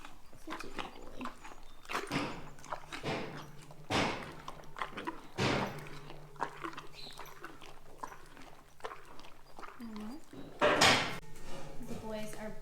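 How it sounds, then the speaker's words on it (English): Horses in a barn banging and kicking at stall walls, a series of sharp irregular thuds and knocks, mixed with a person talking and a dog-like low vocal sound in between. "The boys are banging down the barn because I'm giving Doppler a treat and not them"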